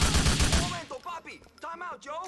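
Gunfire in Grand Theft Auto IV, a quick burst of rapid shots at the start, followed by someone talking over fainter game sound.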